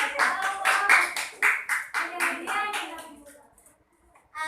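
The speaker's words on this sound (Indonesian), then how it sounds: "Tepuk tangan untuk kelompoknya Mbak Fatma." Children in a grade 2 Javanese-language class clap in rhythmic bursts of hand claps for a classmates' group, with young voices chattering over the clapping before it fades out.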